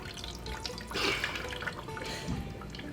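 Water drains from a pot of cooked chicken into a sink, a steady close pouring and dripping trickle running throughout with a brief louder gush near the middle.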